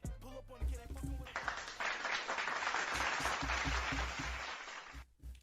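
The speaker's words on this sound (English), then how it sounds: "I hope you liked that little applause we did there at the end" A small group applauds briefly: a quick burst of clapping that swells and holds for a few seconds, then stops sharply, following a bit of music.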